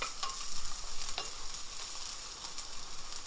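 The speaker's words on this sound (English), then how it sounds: "We'll leave that there for about 2 minutes while that starts to sizzle and cook." Green onions sizzle in a teaspoon of olive oil in a pan, with a steady, soft frying hiss and occasional stirring scrapes across a few seconds, no voices.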